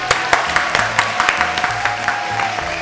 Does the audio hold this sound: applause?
yes